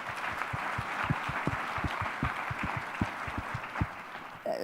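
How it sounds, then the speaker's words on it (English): Applause from a seminar audience after a panel introduction on cancer screening, steady and fairly faint, with a dense patter of claps in the distance and no talk over it. "So would you please give her a warm round of applause?"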